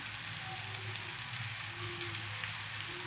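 Thalipeeth, a Maharashtrian flatbread, fries in ghee on a pan with a faint, steady crackling sizzle and a low hum underneath, quiet and even throughout with no voices.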